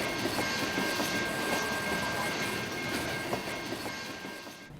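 A train rolls through a neighborhood with a steady rumble and rhythmic wheel clatter, a faint high tone running above it, and the sound easing slightly at the end.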